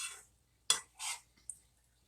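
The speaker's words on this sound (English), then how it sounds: "I'm going to get this mixed in here with this, and we're going to fry it with the egg for a little bit here." Rice with egg stirred in a hot pan for keto scalloped fried rice: a few quiet scraping and clinking strokes of a utensil against the pan, faint and intermittent, with no talk.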